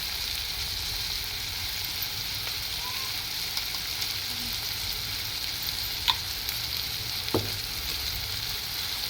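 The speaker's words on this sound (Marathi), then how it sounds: "ती चांगली आपण परतवून घेऊया त्याला चांगलं तेल सुटेपर्यंत परतून घेऊया" Ginger garlic paste sautés in oil for a dried-fish curry with a continuous, even hiss and sizzle and an occasional small tap of a spoon against the pan.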